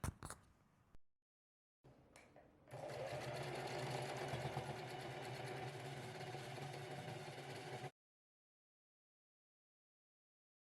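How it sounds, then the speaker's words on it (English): A sewing machine stitches two main fabric pieces of a quilted tote bag along the sides and bottom, with a few short start-stop bursts and then a steady, continuous mechanical hum for about five seconds. "I placed the two main fabric pieces right sides together and stitched along the sides and bottom edge"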